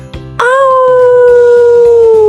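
A wolf's drawn-out howl, loud and close, holding one long steady tone for about two seconds after a short lead-in over a bouncy kids' song backing.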